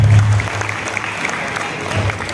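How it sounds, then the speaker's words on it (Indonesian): Crowd applause at a clan community gathering, steady and moderately loud, with a low hum and some voices mixed underneath. "Tepuk tangan yang paling keras sekali lagi untuk pengurus kita periode"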